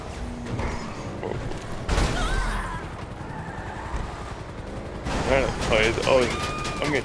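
Gunfire in Grand Theft Auto V: scattered shots and short bursts rise now and then out of a busy game mix of engines and street noise, moderately loud, with someone talking over parts of it.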